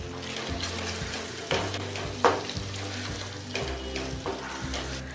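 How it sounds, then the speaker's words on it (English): Fried vegetables tipped into a pan of cooking gravy, giving a steady close sizzle with a few louder splashes and stirring scrapes, heard alone without speech. "Now I am going to add in the fried vegetables."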